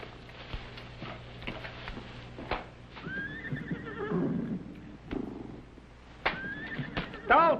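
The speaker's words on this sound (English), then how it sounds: "What do you suppose is bothering them horses?" Horses neigh and whinny repeatedly, with several rising and falling calls over hoof clops and a low background hum, and people speak between the calls.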